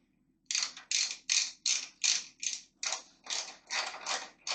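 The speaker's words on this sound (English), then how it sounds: "Now all that we need to do is take a 10mm socket and tighten down this guy." A 10mm socket ratchet tightens a bolt on a Kawasaki Ninja H2 motorcycle, giving about ten loud, close, rhythmic bursts of rapid pawl clicking with brief pauses between strokes.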